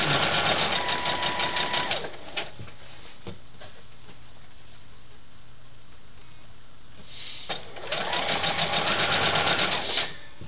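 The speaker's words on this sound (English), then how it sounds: "I'm going to sew over that crease" A sewing machine stitches sashing onto a tied quilt in two loud rapid bursts, at the start and near the end, with a quieter pause between.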